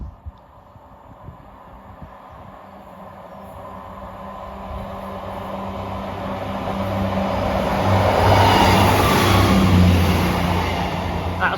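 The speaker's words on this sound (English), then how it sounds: "Passing through now is a ScotRail service from Perth to Edinburgh" A ScotRail passenger train from Perth to Edinburgh passes through North Queensferry. Its low rumble and rolling wheel noise build steadily, peak loud and close, then begin to ease as it goes by.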